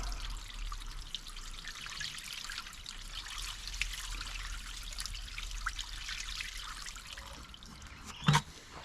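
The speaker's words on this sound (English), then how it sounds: "Flush out some of that dirty, rusty water." Dirty, rusty water flushing and trickling out of a Honda fire pump, a faint steady splashing dribble with a brief louder knock near the end.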